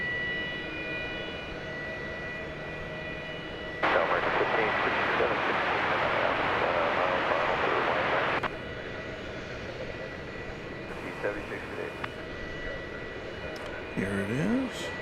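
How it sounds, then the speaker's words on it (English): Jet airliner approaching to land at DFW Airport, a distant engine roar that swells abruptly, holds steadily loud for several seconds, then drops back to a low rumble under light background noise. "this plane attempted to land and rejected that opportunity"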